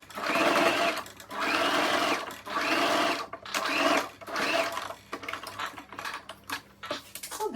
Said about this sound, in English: Now let's stitch the other end, right? So let's stitch the second side.